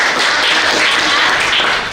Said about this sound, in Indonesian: beri tepuk tangan buat kamu